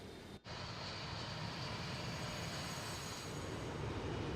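Steady broadband roar of a Boeing 727 airliner climbing after takeoff in a flight simulator, Alitalia livery on a Milan departure, continuous and loud after a brief dip at the start, with no talking.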